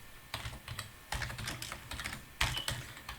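Computer keyboard keys clatter in quick bursts as code is typed, with several short flurries of clicks separated by brief pauses, close and fairly quiet in a calm room.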